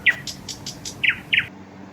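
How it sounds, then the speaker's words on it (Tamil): A nightingale sings in a children's bird cartoon with a quick series of bright chirps, first a rapid run of short notes and then three louder separated tweets, close and alone before ending abruptly. "ராப்பாடி,"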